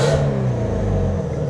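A Ferrari F40 engine idles with a steady, loud, low rumble and a lumpy, uneven throb. It drones continuously and close throughout, with no talk over it.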